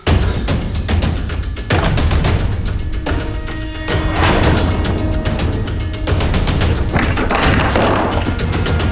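Heavy, repeated thuds strike at irregular intervals, loud and close, as a locked door is forced open with blows.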